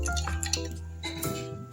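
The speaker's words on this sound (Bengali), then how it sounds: "এগুলো আমি এখন ধুয়ে পরিষ্কার করে নিব।" Corn kernels are rinsed in water before blending, giving close splashing, dripping and soft clinking in short bursts.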